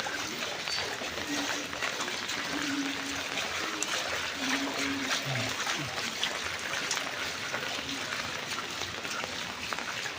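Floodwater standing on a street with no drainage, a continuous wash of trickling and sloshing water with faint distant voices and traffic underneath.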